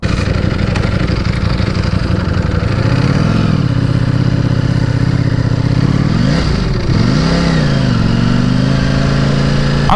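A Ducati Panigale V4 motorcycle engine heard up close while riding, a loud, continuous rumbling drone whose pitch rises and falls as the throttle is worked through revs and shifts.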